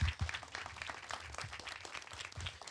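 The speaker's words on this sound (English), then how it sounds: "Give him a round of applause." Audience applause at an official facility renaming ceremony, steady clapping from a crowd lasting the whole moment, moderately loud and even without talk.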